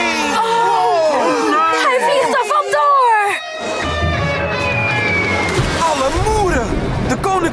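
A cartoon animal crown drops into the ocean with a sloshing splash and bubbling water, following swooping cartoon music and sound effects.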